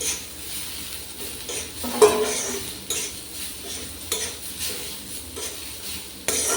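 Eggplant pieces are tipped into a pan with turmeric and stirred for a Bengali vegetarian dish: a spatula scrapes and turns them in a steady rhythm, with a light sizzle and occasional metal clinks, close and fairly quiet.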